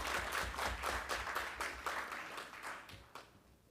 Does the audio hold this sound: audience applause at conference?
yes